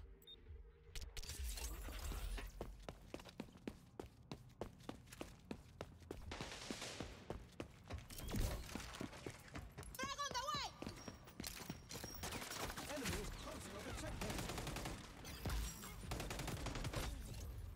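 Gunfire in the XDefiant closed beta: a long run of sharp, evenly spaced shots that comes in bursts with short gaps, fairly close, with a brief voice heard partway through.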